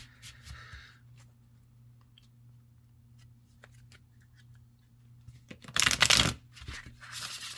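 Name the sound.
shuffling oracle cards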